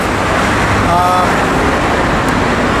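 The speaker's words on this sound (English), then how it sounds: "I hope you can hear me with the traffic." Steady roadside traffic noise, a continuous broadband rumble of passing vehicles that stays loud and unbroken throughout, with a brief faint whine partway through.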